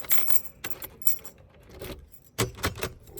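A locksmith's bunch of keys jangles in short metallic bursts while a house door is being locked, close and fairly quiet, with brief pauses between rattles and no talking.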